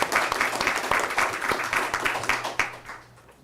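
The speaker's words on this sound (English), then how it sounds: "Let's give those schools a round of applause." A modest group at a school board meeting claps for honoured schools, distinct individual claps in an uneven patter that fades away after about three seconds.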